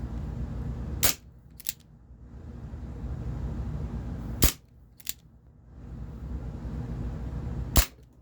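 Three sharp, loud pops ring out from a Barra 1858 CO2 BB revolver, widely spaced over a steady low background hum, with a faint click or small impact following the first two shots.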